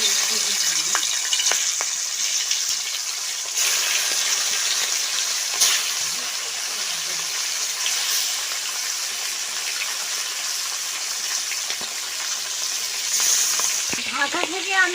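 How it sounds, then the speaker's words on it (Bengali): Fish frying in mustard oil in a pan, a loud continuous sizzle with crackling bursts and occasional stirring or clatter, steady for the whole stretch with no voices. "মাছগুলো ভাজার জন্য কড়াইতে মাছগুলো ছেড়ে দেব।"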